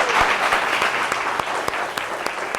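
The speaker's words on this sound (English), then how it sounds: "let's give Bennie Maupin another round of applause" Audience applause for a jazz saxophonist at a talk, a loud continuous crowd clapping that thins into scattered individual claps toward the end.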